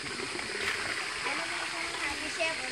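Steady rushing of flowing water at the source of the Brantas river, the longest river in East Java, a dense continuous wash of close stream noise filling the clip without pause.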